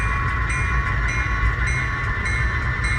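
Steady rumble and grinding of a model freight train of nine cars and a caboose running through a yard, a continuous close mechanical roll with a faint high whine and no talk.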